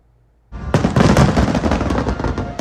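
Macy's Fourth of July fireworks show over New York City: after a brief quiet moment, a loud, dense barrage of overlapping booms, bangs and crackling bursts erupts and carries on without pause.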